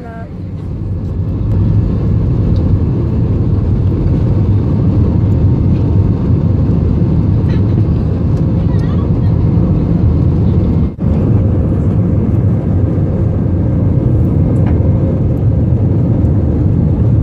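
Inside an airplane cabin during flight, a loud, continuous low engine roar and airflow drone fills the space, steady throughout with a brief click partway.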